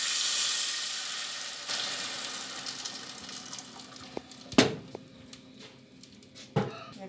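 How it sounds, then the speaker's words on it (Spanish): Tomato and aromatics sizzle in a little oil in a heated pot for Mexican chicken meatballs, a steady frying hiss that fades with a few sharp clinks and splashes near the end. "Aquí tengo la cacerola calentando para ponerle poquito aceite para guisar los olores con el jitomate"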